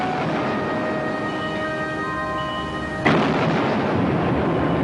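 Cannon fire from the German raider ship Penguin: a single heavy boom cuts in after a sustained droning tone and leaves a broad, rumbling tail.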